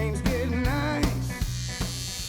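An electric hair clipper fitted with a number 1 guard buzzes during a fade haircut in a barber course, a close, steady droning hum with slight shifts in pitch and a few brief knocks.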